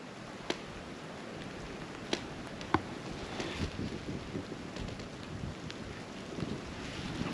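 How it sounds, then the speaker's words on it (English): Strong wind roars steadily through snow-laden trees in a deep winter setting, with a few sharp cracks and snaps of branches standing out above the continuous broadband rush. "The wind."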